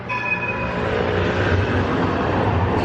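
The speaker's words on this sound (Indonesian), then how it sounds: "Oh, ada kereta lewat noh." A steady, loud rumble of a train rolling past nearby in Istanbul, Turkey, continuous throughout with no voices.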